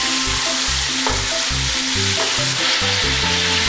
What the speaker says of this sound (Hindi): पूरा चिकन मैंने लिया और इसका वजन गोश्त का लिया हुआ, तो चिकन अच्छे से मिक्स करेंगे